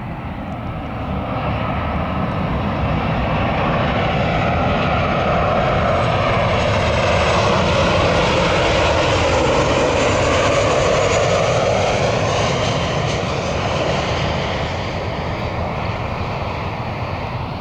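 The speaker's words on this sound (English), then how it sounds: "Another United plane." A United Airlines plane passes over the runway at Cleveland airport with a loud, steady engine roar that swells to a peak mid-pass and then slowly fades.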